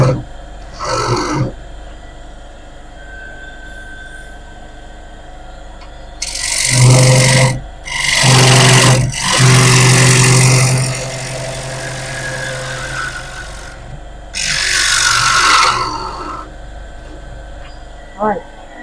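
A wood lathe spins a wide rim bowl with a low steady hum. Loud bursts of cutting and scraping rise and fall over it at intervals, a few seconds at a time.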